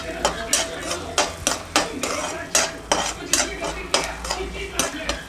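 Cashews and almonds stirred and roasted in a pan, with a spoon scraping and clinking against the metal in a quick, regular rhythm over a faint sizzle.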